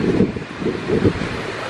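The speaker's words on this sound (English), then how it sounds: "It's really windy." Strong wind at Biosphere 2 buffets the microphone in heavy gusts, a low rumbling roar that swells and falls over a constant hiss.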